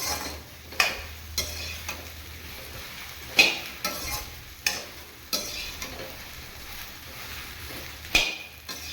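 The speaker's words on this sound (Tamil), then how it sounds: "இது கொஞ்சம் வதக்கும் போது கொஞ்சம் கிண்டிட்டு தான் இருக்கணும்" A soft steady sizzle of okra frying, with a spatula clicking against the pan every second or two as it stirs. Quiet and close, no voices.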